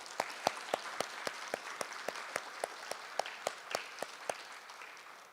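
A small group claps with slow, sparse, evenly spaced sharp claps for departing contestants at an elementary school spelling bee, the hits fairly faint over a soft room hush.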